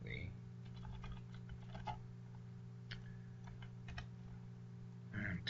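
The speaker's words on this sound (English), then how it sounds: "I'm typing over here" A computer keyboard is typed on in quiet bursts of soft, irregular key taps under a low steady hum, and a faint voice comes in briefly near the end.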